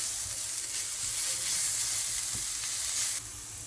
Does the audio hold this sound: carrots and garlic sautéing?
yes